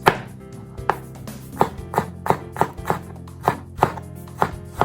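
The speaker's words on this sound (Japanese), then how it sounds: "ニンニクは丸のまま一回潰して香りが出やすくしてから刻んでいきます" A kitchen knife chops crushed whole garlic cloves into a coarse mince on a cutting board, with about a dozen sharp, evenly spaced knocks close up and no voices.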